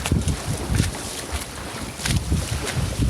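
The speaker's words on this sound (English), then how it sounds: "Wind's getting a bit more gusty now." Gusty wind buffets a sailboat on a winter outing, with loud rushing, rumbling bursts of wind across the microphone rising and falling in waves, along with water noise around the hull.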